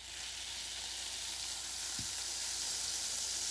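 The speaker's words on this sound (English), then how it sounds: "So let's see if it sizzles" Butter sizzling and spitting in a very hot cast iron skillet being coated for cornbread, a steady loud crackling hiss running the whole time, with a brief low thump near the middle.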